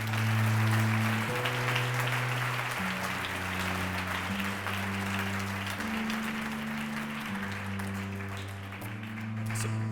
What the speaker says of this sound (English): give a big round of applause to Father Matthew